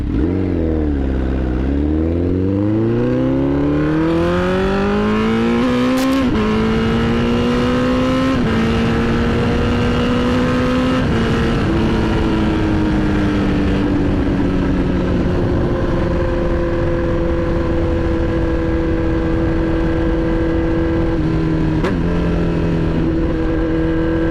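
Honda CBR 1000RR sport motorcycle with its exhaust broken off, revving loudly and rawly, the engine note sweeping up and down through repeated throttle blips and sustained high revs, close up with no talk.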